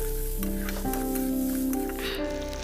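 Boiled white taro pieces and red chili powder sizzle in a thick, well-fried masala, a soft steady crackle running under sustained tonal background sounds.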